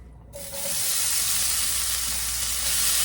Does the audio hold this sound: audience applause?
no